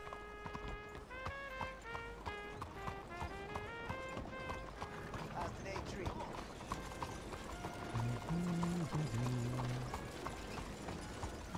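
Horse hooves clopping in a video game: a rapid, rhythmic clip-clop that runs throughout, layered with melodic game music and occasional spoken voices.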